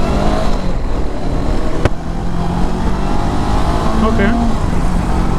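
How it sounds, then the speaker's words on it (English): Honda CB500X motorcycle with about 300 km on it, its bassy exhaust droning loud and steady while riding, with a brief voice over the engine. "you can hear the exhaust has a nice bass to it"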